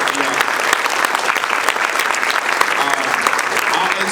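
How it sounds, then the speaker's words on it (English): Dense, steady applause from a keynote audience at a live real estate conference, many hands clapping close together throughout, with voices mixed faintly underneath. "So give him a round of applause."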